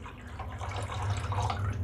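Water poured steadily into a cooking pot for chicken vegetable soup, a continuous splashing, gurgling stream heard close and fairly quiet with no talk.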